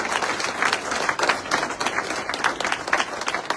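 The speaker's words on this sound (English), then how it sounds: "Can we give all those people a great round of applause?" Steady applause from a crowd, dense clapping at a moderate level that holds evenly throughout.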